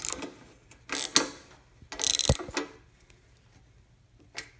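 Ratchet tightening bolts on a 360 engine bottom end, several short bursts of rapid clicking pawl sounds, close and fairly quiet, separated by pauses.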